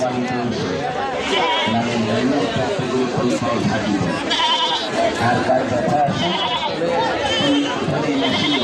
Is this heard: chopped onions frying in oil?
no